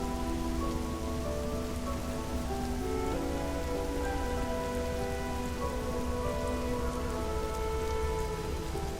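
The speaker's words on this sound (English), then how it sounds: "a remote planet inhabited pretty much entirely of rain" Steady, continuous rain pours on a remote rain-covered planet in a Halo Reach machinima, a dense even wash of drops on surfaces holding the same loudness throughout with no voices.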